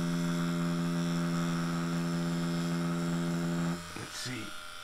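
A Dragonhawk Extreme v2 direct drive tattoo machine runs with a loud steady electric buzz and strong hum, then the buzz drops and wavers near the end as the machine bounces against the skin.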